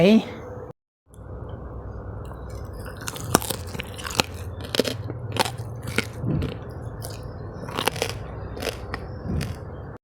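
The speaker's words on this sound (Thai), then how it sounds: "หมูกรอบของเรา กรอบนะครับ" Crispy air-fried pork belly is bitten and chewed up close, giving a series of sharp crunches and crackles spread over several seconds after a brief pause.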